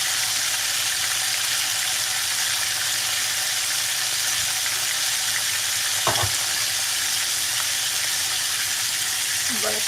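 Fish fries in a pan on a stovetop with a loud, steady sizzle filling the whole clip, and a brief utensil clank partway through.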